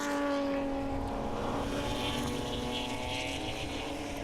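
A BMW race car's engine drones loudly from on board at Hampton Downs circuit, a steady, strained tone held under power with slight pitch shifts along the short chute.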